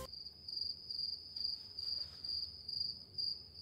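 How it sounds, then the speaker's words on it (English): Crickets chirp in a steady, regular pulsing rhythm, moderately close and fairly quiet against a faint low background rumble, with no voices. "give me the cricket sound."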